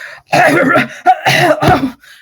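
A voice imitates a spluttering cough, a few harsh rough bursts in quick succession, close and fairly loud.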